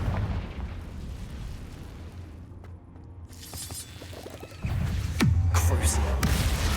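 Confringo blasting spell explosions in the Hogwarts Legacy video game, heard as sharp bursts and a booming crash with a falling whoosh in the final seconds, over game ambience and a voice.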